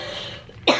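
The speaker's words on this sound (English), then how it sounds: "I don't want my cough in this video" A single short, sharp cough from a person close by bursts out near the end after a quiet moment with faint background hum.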